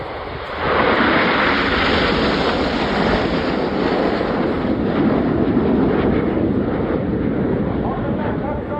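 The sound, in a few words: Concorde aircraft flying past at airshow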